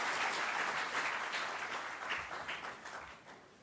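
Steady applause fills a hall as an audience welcomes the Chief Minister at an appointment letter ceremony, dense clapping holding for a few seconds and tapering slightly toward the end, with no voices over it.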